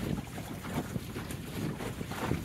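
Wind gusts sweep steadily over a sailboat moving across a river estuary bay, a broad, constant rushing roar buffeting the microphone with faint water wash beneath and no talking.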